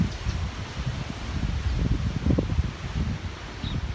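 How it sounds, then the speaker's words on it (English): Strong gusty wind from Hurricane Matthew on a dry, rainless day outdoors near a rocking chair, roaring as a steady rumbling rush with rustling leaves throughout. "But man, it's windy as all get out."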